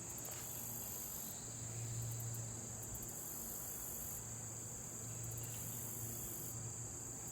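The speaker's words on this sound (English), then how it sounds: "I can just sit back there and listen to crickets" Crickets chirp steadily in the woods at a country property, a continuous high insect trill layered with softer chirping, at an even low level with no talking.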